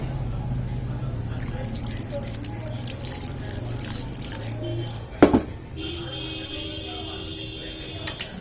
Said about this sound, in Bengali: তো আরও একটু জল লাগবে।